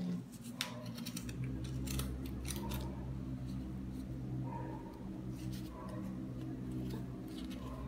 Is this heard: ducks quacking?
no